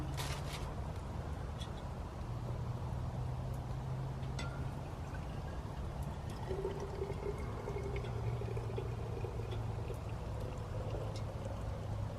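Steady stream of hot water pouring from a flask into a container, a continuous gurgling wash with a low hum underneath, close and moderately quiet.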